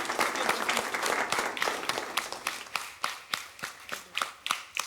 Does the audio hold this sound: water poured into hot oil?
no